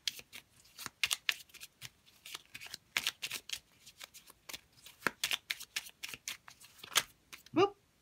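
Tarot cards shuffled close up in quick, rhythmic riffling bursts, with soft flicks and slaps between them while a voice talks underneath.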